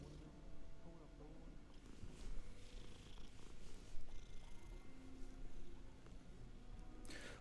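In Hogwarts Legacy, a cat being petted purrs in a low, continuous rumble beneath game ambience and faint background sounds.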